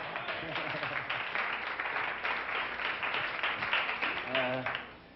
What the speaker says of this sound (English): How about a round of applause for John Lilly, huh?